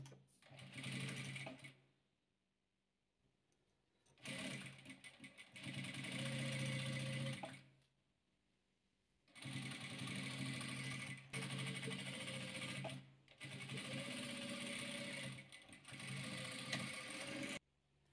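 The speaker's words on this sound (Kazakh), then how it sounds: "Міне осы шаршымызды енді тігіп аламыз." Sewing machine stitching white and red fabric squares together for chain-style patchwork, running in three long loud bursts separated by short pauses.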